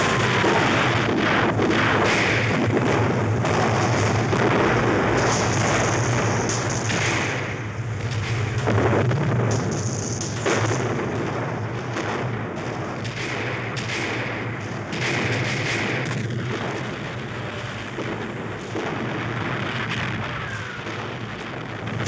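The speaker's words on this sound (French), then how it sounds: "le canon de DCA de 88 mm transformé en anti-char" A German 88 mm anti-aircraft gun fires as an anti-tank gun in desert warfare. Heavy, continuous booms and thuds fill the whole stretch with no voices.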